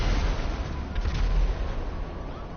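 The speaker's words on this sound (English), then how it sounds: "now launch missiles down into there" Aircraft-launched missiles striking targets below during the GTA Online Cayo Perico heist, a continuous rumbling barrage of blasts and booms that stays loud throughout with no pauses.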